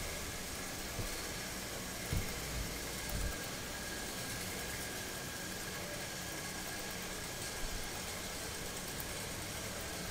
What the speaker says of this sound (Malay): kita nampak kat sini enjin tetap dihidupkan